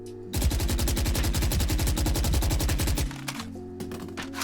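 Automatic gun in Valorant spraying a rapid, evenly spaced burst of loud shots for about three seconds, then stopping, leaving a few faint clicks and game ambience.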